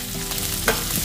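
Garlic, onion and ginger sautéing in a pan make a brief, close, dense sizzle, with a couple of scraping stirs toward the end.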